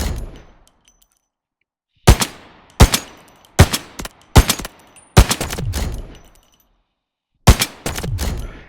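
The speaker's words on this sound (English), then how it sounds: "it's a semi-automatic sniper rifle" Semi-automatic sniper rifle in Delta Force Mobile firing single loud, sharp shots, close and alone: a pair, then a quick run of four, a lone shot, and a final pair after a pause, each trailing a short ringing tail.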